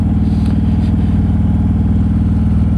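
A motorcycle engine runs close by with a loud, steady, throbbing low rumble and rapid even pulses, heard alone and unbroken throughout.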